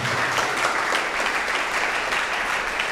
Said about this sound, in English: Please, we want the rounds of applause to be louder as well.